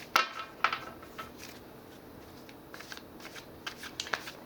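Tarot cards from a Gilded Tarot deck being shuffled and laid out, close crisp snaps and slides of card stock, a few sharp flicks followed by softer scattered rustles, with no speech.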